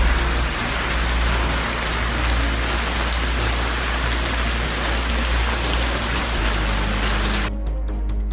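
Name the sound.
heavy rain in Santiago, Chile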